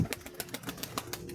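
A pigeon is released and flaps its wings in a rapid series of close, rhythmic wing beats over a little background noise.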